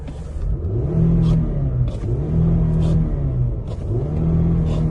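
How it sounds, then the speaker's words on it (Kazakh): Petrol 2.4-litre engine of a 2015 Hyundai Santa Fe with 186,000 km, revving up and down in a steady, repeating cycle of rising and falling pitch, close and loud throughout. "Моторы жылқып тұр."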